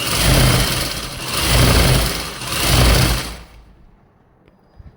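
A sewing machine runs steadily for about three and a half seconds, stitching along the cuff of a salwar, with its hum rising and falling slightly before it stops and leaves near silence.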